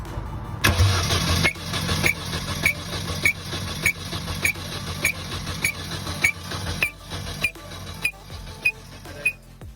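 A supercharged Mini Cooper S R53 engine cranks over during a compression test, its starter turning in a steady, even rhythm of pulses that continues for several seconds, close and clear with no talking.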